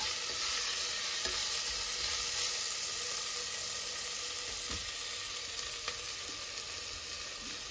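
Ginger garlic paste frying in a pan for paaya soup gives a steady, close sizzle with occasional stirring scrapes and taps, continuous throughout with no talking.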